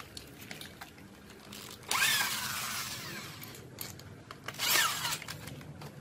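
Fitted with a 7 mm bit, a power drill bites into aluminium cabinet framing in two short, loud whirring bursts a few seconds apart. Low handling noise fills the gap between them.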